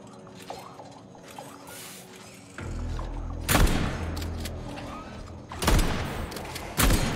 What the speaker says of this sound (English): I shoot things from here.